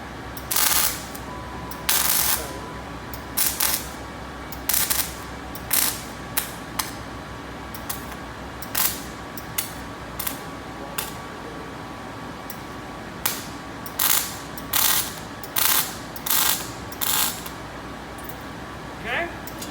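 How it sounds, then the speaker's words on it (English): Bad tack welds being struck with a welder during machine setup: a series of short, sharp crackling bursts at irregular intervals, each lasting under a second, over a steady low hum. "let's do some bad tack welds. You're gonna hear it."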